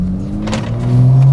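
A BMW F30 with a freshly flashed transmission hums at close range as it pulls off, its engine tone rising steadily and growing louder toward the end.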